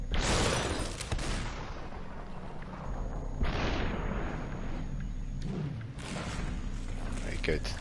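Gunfire in the video game Superhot on PlayStation 4 Pro, a few booming shots with long decaying tails spaced several seconds apart, mixed with people talking.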